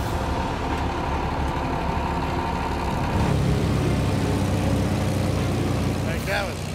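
A water pump engine at a gold mine drones loudly and steadily, its heavy rumble shifting to a fuller, rougher roar partway through and continuing unbroken to the end.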